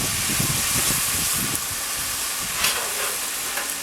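Canned Rotel is stirred into a pan of taco meat, a loud steady sizzle with rhythmic scraping and mixing strokes in the first half that thin out toward the end.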